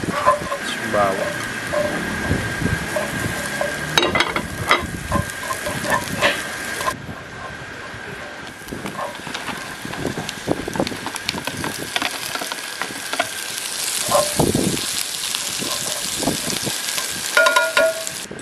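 Onion and garlic frying in a little oil for hoisin tofu, a long sizzle with clattering stirs of utensils against the pan, loud and close, with a voice talking at times.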